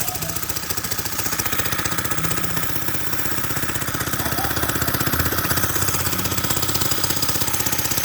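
A motorcycle engine idles before setting off, a loud, close, steady rapid chugging that runs throughout with no talking.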